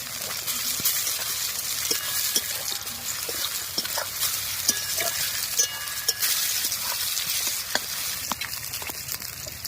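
Onion, garlic and dried chillies fry in a pan with a steady, soft hiss and crackle. Faint tones from distant loudspeakers drift through the background.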